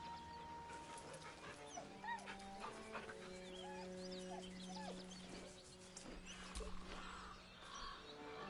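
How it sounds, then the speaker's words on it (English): A dog in the Baldur's Gate 3 video game gives soft, drawn-out whimpering whines, fairly quiet and mixed under sustained background music tones. "With a deep, heartbroken whine, the dog bows his head"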